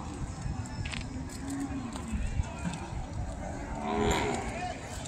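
An Ongole breed calf at the Kodad cattle market moos loudly a few times, close to the listener, while people talk nearby amid market bustle.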